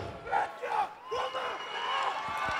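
Arena crowd at a strongman deadlift show roaring and cheering in rising swells, loud and dense, with shouts cutting through the mass of voices.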